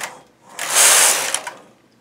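A knitting machine carriage sweeps across the needle beds knitting a row, a brief smooth mechanical whir that swells and fades with a couple of small clicks.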